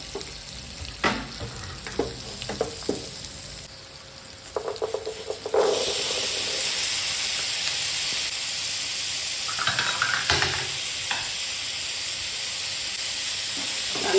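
Chickpeas frying in a pan for a home-cooked snack: a few stirring knocks and scrapes at first, then a steady, close hiss and sizzle that carries on to the end.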